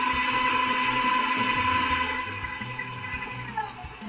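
An electric mixer whirs steadily as it beats Christmas pudding batter until light and fluffy, a high whine with a slight drop in pitch near the end, with no voices.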